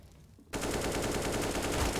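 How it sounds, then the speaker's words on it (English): Rapid automatic gunfire in Counter-Strike during a competitive match breaks in suddenly after a quiet moment. It fires as a loud, steady, evenly spaced rattle that continues alone to the end. "Zhang Wei finding 2 fucking quick headshots."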